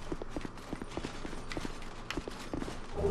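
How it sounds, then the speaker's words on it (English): Footsteps in the Dark Souls 2 game sound as a steady run of distinct thudding steps, evenly spaced and moderately close, with no other sounds competing. "And I can hear footsteps."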